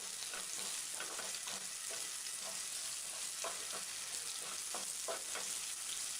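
Potatoes frying with turmeric in a pan and being stirred: a steady bright sizzle runs underneath while repeated scraping strokes of a spoon come through at an even, unhurried pace, close up and with no voices.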